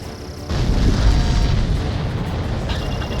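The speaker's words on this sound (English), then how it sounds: "Did you see that explosion? Looks like that's one of them down." A supply ship exploding in the Ace Combat 7 flight combat game: a sudden heavy boom bursts in and rolls into a sustained, loud rumbling roar that slowly settles, with no voices.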